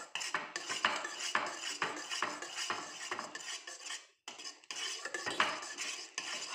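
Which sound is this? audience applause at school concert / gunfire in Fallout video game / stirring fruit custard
stirring fruit custard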